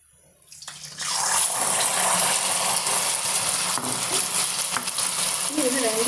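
Diwali sweets fry in hot oil in a pan, a loud, steady sizzle that surges in after a quiet start and stays constant, with faint stirring clinks.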